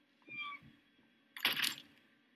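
A cat meows once in a short rising-falling call, then a louder, harsher yowl follows about a second later, both fairly close.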